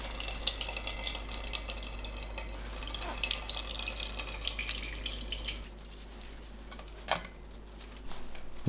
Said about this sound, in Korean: 총 30분 절인 오이는 물을 꽉 짭니다.